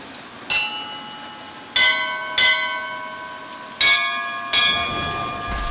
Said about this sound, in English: now let's use the bells